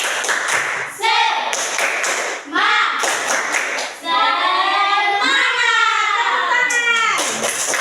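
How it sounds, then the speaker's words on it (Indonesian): A classroom group performs a rhythmic clapping cheer, bursts of hand claps and children's chanting voices repeating in a steady pattern, loud and close, with brief pauses between rounds. "Tepuk semangat."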